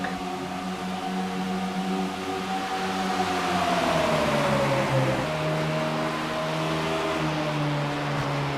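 Stock race cars roar around a Chicago oval track in a steady, loud engine drone, one car's pitch sliding downward as it passes, with other engines holding underneath throughout.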